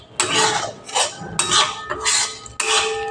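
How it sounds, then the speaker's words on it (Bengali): A spatula scrapes and knocks against a pan while a spice paste with red chili powder is sautéed in a little oil, giving four or five loud, close bursts of metallic scraping with short pauses between. "দিয়ে এবার মশলাটাকে আমি ভালো করে কষে নেব"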